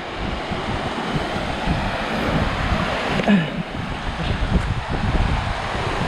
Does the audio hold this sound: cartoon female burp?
no